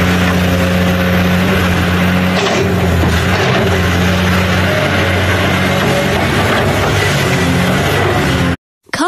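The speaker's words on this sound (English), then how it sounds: "Excavator." An excavator's heavy diesel engine drones continuously and loudly nearby, holding a steady low hum with a slight shift in pitch partway through, with no voices before it stops abruptly near the end.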